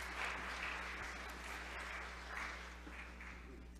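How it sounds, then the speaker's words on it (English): A church congregation applauds at a worship service, steady dense clapping filling the room at moderate level and tapering slightly toward the end, with no voices over it. "Give them a big round of applause."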